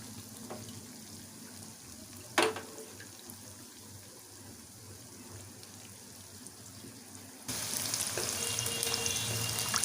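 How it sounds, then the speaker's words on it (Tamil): Chicken pieces for chicken manchurian fry in oil over a medium flame with a continuous soft sizzle, a sharp clatter early on, and a louder, denser crackle near the end. "மீடியம் ஃப்ளேவரில் வச்சு பொரிங்க. அப்போ தான் சிக்கன் உள்ளேயும் வேகும்,"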